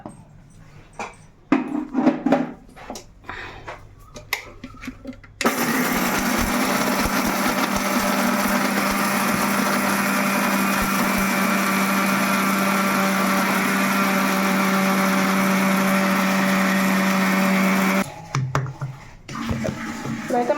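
Dried coconut cut into small pieces and ground to powder in a kitchen mixer, a steady, loud, high-pitched motor whine running for about thirteen seconds, with quieter handling noises before and after.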